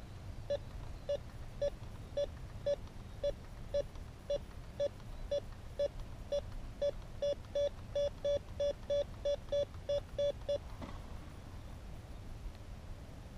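A Bounty Hunter Tracker IV metal detector gives a steady series of short, high electronic beeps repeating at an even pace, quickening slightly toward the end before stopping, over a low background hum.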